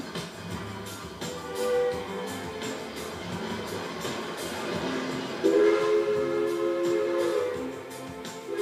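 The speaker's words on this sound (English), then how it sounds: "The engineer gives 2 blasts of the whistle." A steam locomotive on the Durango & Silverton narrow gauge railroad sounds its whistle, a steady tonal blast rising over rumbling, chuffing train noise, heard fairly loud and close.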